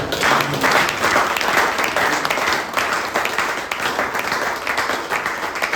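A church congregation applauds the Lord in loud, sustained clapping throughout, a dense and steady wash of many hands with faint voices mixed in.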